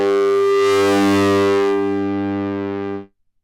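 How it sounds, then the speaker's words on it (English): A Korg MS-20 synthesizer runs through an external processor and holds a single sustained, buzzy, gritty distorted tone that starts out bright and loud, turns duller midway and then cuts off abruptly. "So as I increase this signal level, I get a really nice bit of distortion through this."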